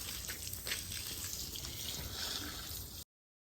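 Water running steadily onto a log as it soaks, a continuous close splashing wash that cuts off abruptly near the end.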